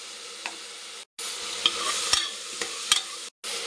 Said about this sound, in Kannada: ಫ್ರೆಂಡ್ಸ್, ಇವಾಗ ನಾನು ಶುಂಠಿ ಬೆಳ್ಳುಳ್ಳಿ ಪೇಸ್ಟ್ ಹಾಕ್ತಾಯಿದ್ದೀನಿ